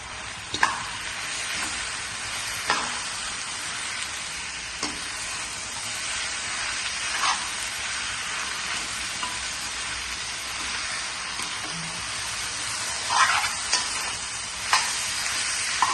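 Steady sizzling of chicken frying in a pan for Pallipalayam chicken, with occasional stirring scrapes and clinks over the constant hiss.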